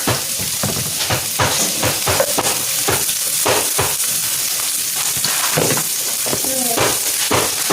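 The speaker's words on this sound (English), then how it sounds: "So let me stir." Broccoli, sweet pepper and thyme get stirred in a cooking pot for a Jamaican-style steamed fish and vegetable dish, with repeated scraping strokes over a soft sizzle, loud and close.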